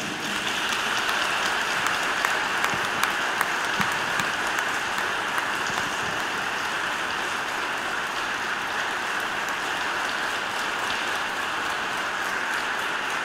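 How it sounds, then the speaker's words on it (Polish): Audience applause for theatre performers after a staged play, a dense, steady wash of clapping from a large crowd that holds evenly throughout with no talk. "Brawo dla nich!"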